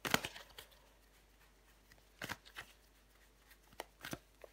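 A tarot card is laid down over another card during a reading, giving a sharp papery slap near the start, followed by a few lighter, scattered card taps and slides in a quiet room.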